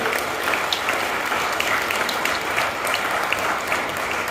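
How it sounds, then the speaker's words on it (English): An audience claps steadily in a dense, sustained round of applause, loud and close, with no talking over it. "Ladies and gentlemen, a big round of applause there, thank you."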